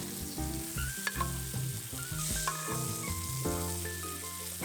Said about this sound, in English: add in 1 to 2 tablespoons butter and baste the steak until your desired doneness